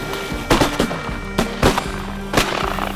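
Several loud shotgun blasts during a goose hunt in an open field, fired in a ragged volley of close sharp reports with short gaps, each leaving a brief echoing tail over low background noise.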